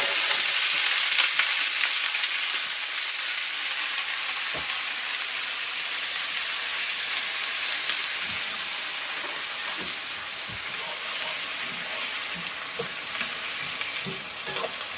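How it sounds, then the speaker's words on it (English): Steady, dense sizzling of fresh summer corn frying in hot oil in a frying pan, a constant bright crackle with occasional soft clicks, close by and fairly loud. "you take it over here to the frying pan where you've got a hot frying pan with some oil in it"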